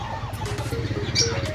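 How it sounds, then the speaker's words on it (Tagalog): Native chickens cluck and murmur steadily close by at a market in Dasmariñas, Cavite, with a faint higher chirp near the end over a low background rumble. "Maraming manok dito nga mga native."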